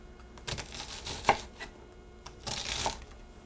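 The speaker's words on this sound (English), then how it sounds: "cut across all those parallel cuts you made" A kitchen knife cuts crosswise through an onion on a cutting board, giving a few soft close chopping thuds and crunches in short bursts with pauses between.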